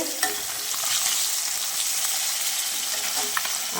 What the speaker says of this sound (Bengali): বন্ধুরা দেখো যে মাছ ভাজা হচ্ছে